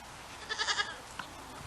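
A short burst of goat bleats, a few quick wavering calls close together, then one brief call after a pause, fairly faint and alone.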